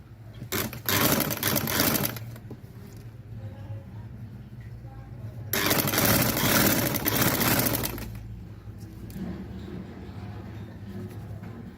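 A sewing machine stitches along double-folded cloth in two loud, steady runs of rapid whirring separated by a quieter pause, with a person talking in between.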